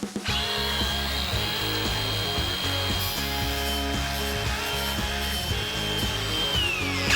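A power tool cuts a brake booster rod shorter on an off-road 6x6, a loud continuous grinding whine with a pulsing rhythmic chop underneath, steady and close for the whole stretch, no talking.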